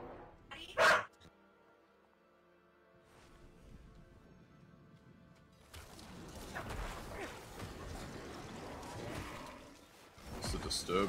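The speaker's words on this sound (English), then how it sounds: "Puppy sounds excited." An excited puppy in a Diablo 4 game yips and whimpers in short bursts, with a sharp near bark at the start and busier game audio building underneath.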